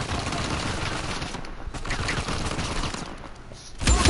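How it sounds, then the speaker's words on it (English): Video game gunfire in a sustained, dense burst of rapid automatic shots that run together into a continuous loud rattle, with a heavier blast near the end and no talking. "Stop shooting at me!"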